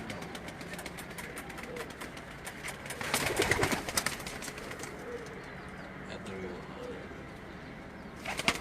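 Garla pigeons at a rural loft cooing in soft repeated calls, with a burst of wing flapping midway and a brief flutter at the end, over steady outdoor background noise.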